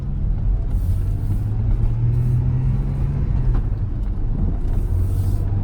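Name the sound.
Porsche 911 driving on a test ride after brake job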